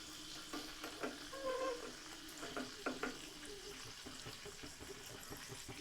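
A turmeric oil mixture heating in a pan is stirred, with a faint, continuous frying crackle and scattered soft scrapes and clinks from the spoon, all quiet and close.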